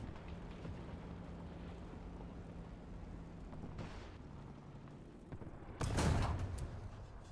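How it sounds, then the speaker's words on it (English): A tank shell ricocheting off armor in the War Thunder video game, heard as a single sharp metallic impact burst near the end, loud and close over a low rumbling engine drone. "Ricochet."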